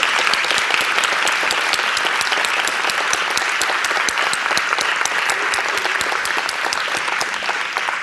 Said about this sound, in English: please give a round of applause to this remarkable panel